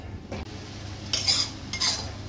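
Masala for a fish-head dish fries in a pan and is stirred, giving two or three brisk scraping strokes of spoon against metal over a low, faint background sizzle.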